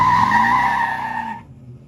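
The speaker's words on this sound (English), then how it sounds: "the Sequoia can do burnouts" Toyota Sequoia TRD Pro in rear-wheel drive doing a burnout, tires squealing loudly in a sustained skid with engine noise beneath, the screech cutting off abruptly near the end.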